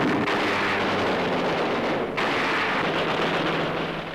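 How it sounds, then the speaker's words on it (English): A sustained, loud roaring blast rumbles as an anti-aircraft tower is destroyed by explosives during a World War II air raid on the Philippines, with a brief dip midway before the rumble continues. "An anti-aircraft tower is blasted."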